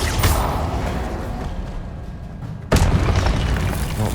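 A fiery spell bursts in the video game Hogwarts Legacy, a loud rushing whoosh and roar followed by a sudden sharp boom partway through, with dense game noise throughout.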